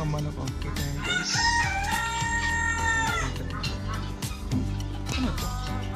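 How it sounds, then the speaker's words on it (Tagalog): At a livestock market in Taif, Saudi Arabia, a rooster crows loudly and up close while chickens cluck steadily around it, with some voices in the mix. "Mga manok ang kita yan guys."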